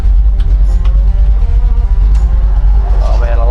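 A 1968 Chevrelle V8 engine idles close by, with a loud, deep, throbbing rumble pulsing steadily through the whole short stretch.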